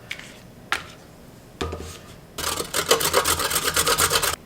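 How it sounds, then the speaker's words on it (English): A box grater rasps through vegetables with a quick run of rough back-and-forth strokes, after a few isolated scrapes and knocks, close up in a kitchen with no talking. "So for that, I use a box grater, this whole size."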